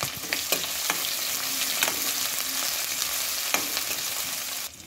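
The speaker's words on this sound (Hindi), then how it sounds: "यहाँ एक बड़ी साइज का प्याज डालेंगे और इसे लाल होने देंगे" A large onion sizzles steadily in a pan with cumin, the base for a cabbage and pea sabzi, a loud continuous frying hiss with a few sharp spoon clicks throughout.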